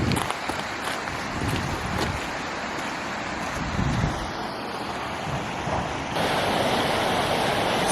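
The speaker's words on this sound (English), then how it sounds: "So beautiful. I can't believe we're here. The waterfall." Waterfall at Lauterbrunnen in the Swiss Alps gives a steady broadband roar of falling water with wind gusts on the microphone, loud and continuous throughout.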